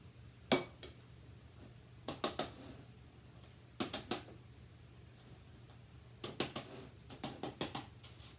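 Hands tap the sides of a plant pot holding PON growing media, settling it in: a few sharp knocks spaced over several seconds, some in quick pairs or triples, close but quiet.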